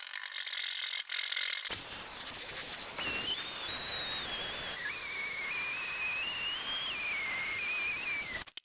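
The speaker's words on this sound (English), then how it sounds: "I'm going to try to reflow all the solder joints on this PCB using a heat gun" A heat gun blowing hot air to reflow solder joints on an old disco mixer's circuit board: a sudden steady hiss with a high whistling tone that shifts pitch, close and constant until it cuts off.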